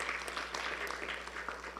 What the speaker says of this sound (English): Yeah, you can applaud her because she does deserve it